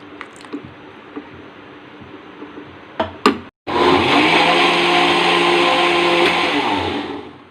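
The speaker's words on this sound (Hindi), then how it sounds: "जब भी चलाएंगे हम मिक्सी में तो रोक रोक के फेंटेंगे इसे।" A kitchen mixer grinder whisking ghevar batter whirs loudly for a few seconds after some small clicks and knocks, then cuts off and starts again in a sustained, roaring burst.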